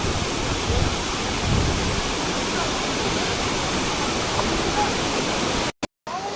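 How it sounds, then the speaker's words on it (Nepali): A waterfall in Manang, Nepal roars continuously nearby, a dense, steady rush of falling water that briefly cuts out near the end. "Welcome to octopus Jharna."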